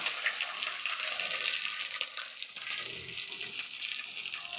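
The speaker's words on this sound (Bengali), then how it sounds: "এখন ফোড়নে মশলা দেওয়া হচ্ছে এখানে দেওয়া হচ্ছে জিরে ধনিয়া" Cumin and coriander hit hot oil for tempering in a mixed-vegetable khichuri, giving a bright, steady sizzle and crackle that dips briefly midway, with no talking.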